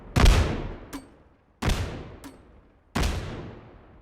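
Three grenade explosions as a game sound effect obstructed by rocks, each a sharp loud blast with a long decaying rumble, spaced about a second and a half apart, a faint metallic tick following the first two.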